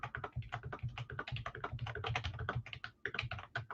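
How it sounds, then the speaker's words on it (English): Rapid, continuous clatter of fingers typing on a computer keyboard during a live sports card break, close and steady with brief pauses between bursts of keystrokes, no voices. "Yes, I'm typing."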